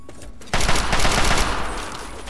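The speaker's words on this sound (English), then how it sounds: "Good firing." Sustained automatic gunfire in modded Fallout 3 on PC, a dense rattling burst erupting abruptly after a quiet moment and continuing loud and unbroken to the end.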